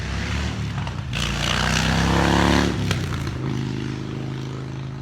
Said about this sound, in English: Like a motorcycle driving by.